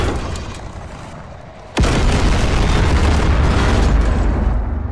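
In the game People Playground a tank explodes: a sudden loud boom lands after a quieter stretch, then a dense roaring rumble holds steady to the end.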